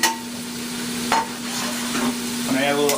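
Butter sizzling in a hot frying pan during a seafood cooking demonstration, a steady close hiss with stirring scrapes and a faint hum underneath.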